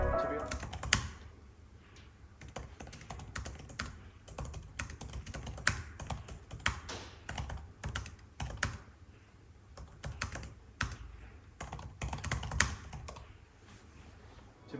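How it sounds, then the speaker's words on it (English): Typing on an M2 MacBook Air keyboard, a close, crisp run of rapid key clicks in uneven bursts with short pauses, heard alone without talk. "let's talk about the keyboard. Now, I will do a quick sound test for you guys so that you can hear what that sounds like."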